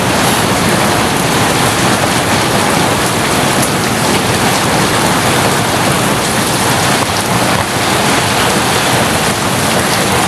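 Heavy rain pours down outside a house, a dense, loud and unbroken hiss of drops on surfaces that fills the whole stretch with no voices.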